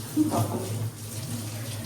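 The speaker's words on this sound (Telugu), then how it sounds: "ట్యాప్ కింద పెట్టి కడుగుతున్నారు" Water runs from a kitchen tap as something is rinsed beneath it in a home, a steady soft rushing and splashing with faint background voices.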